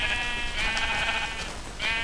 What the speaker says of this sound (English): There you go, sheep on fire, walking down the road.